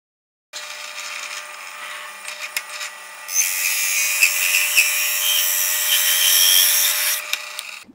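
A power saw cuts out a wooden workpiece for an automata base, a steady buzzing rasp that grows louder and brighter midway and runs close and alone for several seconds before stopping.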